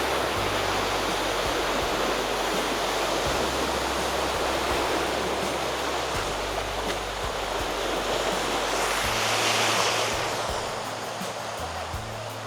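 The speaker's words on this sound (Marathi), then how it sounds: "आता बघा माझ्या मागे लाटा बघा, थोडं पाणी उसळत आहे." Ocean waves surging and splashing on an Andaman beach near Neil Island, a loud, continuous broad wash of surf, with a stronger swell late in the stretch and no talk.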